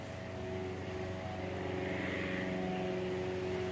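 Airplanes passing near an airport, a steady continuous drone of aircraft engines holding at moderate loudness throughout, with no talking.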